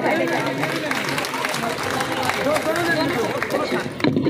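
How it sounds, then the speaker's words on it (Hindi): Women gathered at a meeting clap together in steady, dense applause mixed with chatter and crowd murmur. "आप अपने लिए तालियां बजाइए"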